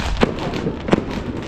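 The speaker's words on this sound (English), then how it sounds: "So now we got all these people lighting off firecrackers everywhere." Firecrackers go off during Chinese New Year festivities in Macau: two sharp, loud bangs about 0.7 seconds apart stand out over a steady crowded street hubbub.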